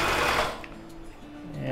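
A Consew sewing machine runs a steady mechanical hum of stitching, strong at first, then easing off and picking back up, close and loud.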